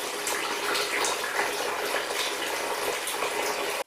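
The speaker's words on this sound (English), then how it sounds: "Where I've released that valve, it's allowing the air in, which in turn is allowing the water to drain out a lot quicker and clearer." Water draining steadily from a towel rail radiator with its air valve opened, a constant rushing gush like a running tap, close and even, cutting off abruptly at the end.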